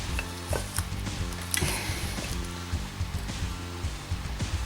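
Screws being backed out of the float bowls on a Suzuki RF 900's carburetors, giving close, quiet metallic clicks and ratcheting scrapes in an irregular stream, with no talking.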